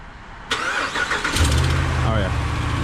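A Ram 1500 pickup truck with a leaking exhaust manifold cranks briefly and fires up, then settles into a loud, close idle with a ticking exhaust note, while someone talks over it.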